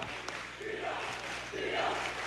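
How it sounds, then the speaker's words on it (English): Owatonna basketball fans in a high-school gym during a section semifinal at Lakeville South, raising a loud rhythmic chant with crowd noise swelling twice, sustained throughout. "Owatonna crowd making noise. They got the D up chant going"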